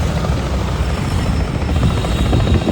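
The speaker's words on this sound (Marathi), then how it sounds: "ओ भाई हेलिकॉप्टर" Helicopter flying overhead during a crowded welcome celebration in Kolhapur, a loud, steady rotor chop with engine drone, close and continuous without any talk.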